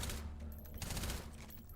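Rapid incendiary rounds fire at Sosigs in the video game H3VR, a dense, continuous volley of crackling shots that runs the whole short stretch with no voices over it.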